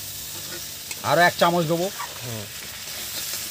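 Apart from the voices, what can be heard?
stirring gram flour into frying bitter gourd and potato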